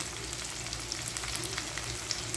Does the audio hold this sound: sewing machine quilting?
no